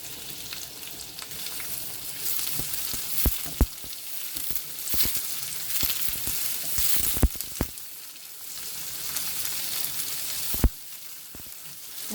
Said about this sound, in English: I'm going to throw in the mushrooms and let them cook together.